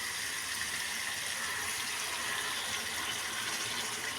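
Milk poured steadily into a pot of pindi vadiyalu curry, a continuous close liquid gush and splash with no talking.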